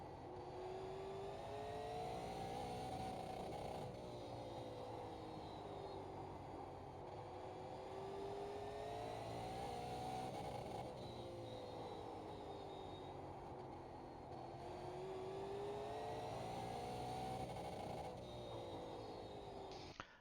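Engine note of an iRacing Super Late Model car in the video game, heard from the cockpit over a full lap at Hickory, rising and falling steadily as it throttles up and lifts through the turns, loud and continuous with no talk.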